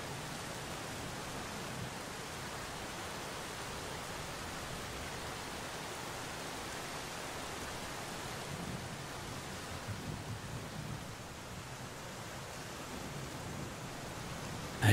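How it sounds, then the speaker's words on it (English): Steady, soft rainfall hisses evenly throughout, a constant wash of drops with no breaks and no voices. "I listen to the rain."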